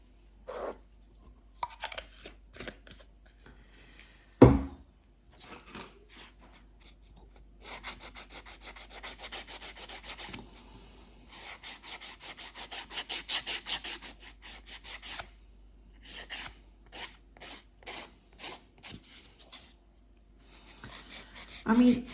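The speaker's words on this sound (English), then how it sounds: "Okay, into filing." Builder gel nails are filed at home with repeated short rasping strokes, close and fairly soft, coming in irregular bursts with pauses between them, and a person speaks at times.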